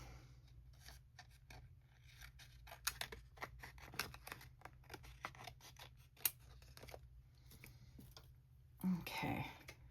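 Scissors snip steadily through a book spine along its original glue line, a quick series of close, crisp cuts with brief pauses, ending in a louder rustle.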